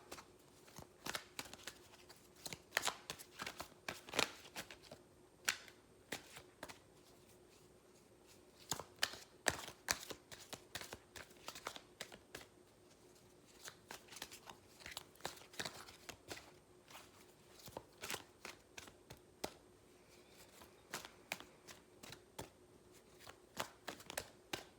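Angel Guidance oracle cards being shuffled by hand, a long run of quick papery riffles and taps with brief pauses, close and fairly quiet, with no talking.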